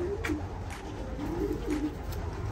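A champion racing pigeon coos in soft, repeated rolling phrases over a steady background hum, the calls rising and falling in short bursts.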